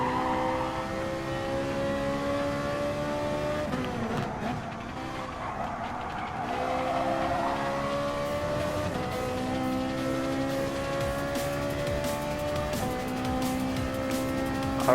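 Gr.4 race cars lapping Sardegna Road Track B in Gran Turismo Sport, engines holding a steady high whine that rises and shifts through gears, with brief tire squeal mid-run and continuous loud drone throughout.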